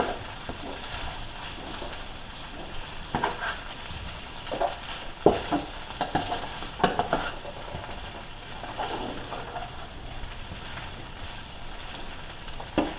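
A spatula stirs Southern-style cabbage in a pan, with a soft, steady sizzle under irregular scraping and light clicking strokes, some sharper knocks in the middle, and no talking.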